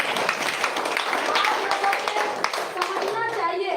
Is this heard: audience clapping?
yes